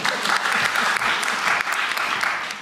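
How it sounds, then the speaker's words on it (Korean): A crowd at a town-hall meeting with residents in northern Gyeonggi bursts into sustained applause, dense and fairly loud throughout without a break. "박수 안 치시네요."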